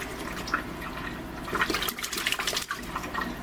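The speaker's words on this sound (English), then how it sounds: "So, let's rinse it off a bit." Tap water rinsing the roots of a betta tank plant bought from a superstore, a steady running splash with gurgling bursts as the roots are worked under the stream, close and moderately quiet.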